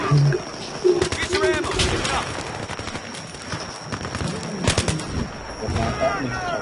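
Rapid bursts of gunfire from the video game Battlefield 3 crackle in clusters, mixed with game effects, while someone talks over much of the action.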